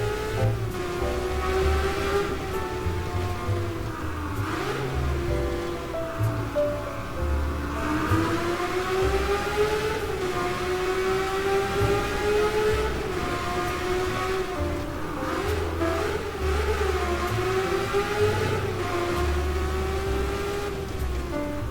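LaFerrari engine in the Midnight Chasers video game, a continuous drone that rises and falls as the car accelerates and eases off, with gear-like pitch sweeps throughout and no talking.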